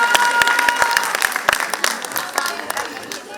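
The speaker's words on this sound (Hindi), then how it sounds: "हाँ, आइए आइए, वही जोरदार तालियों से इनका स्वागत कीजिए।" An annual day audience claps loudly to welcome the founder on stage, a dense burst of applause that slowly thins out, with a voice speaking over it.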